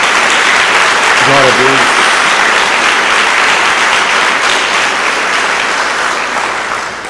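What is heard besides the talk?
church congregation applause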